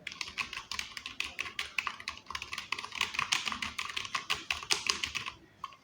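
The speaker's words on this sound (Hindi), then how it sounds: "कीबोर्ड की जो कीज़ हैं काफ़ी स्मूथ है।" Keys on an A4Tech FK11 USB keyboard are typed in a fast continuous stream of soft, close clicks and taps, fairly quiet, with no talking over them.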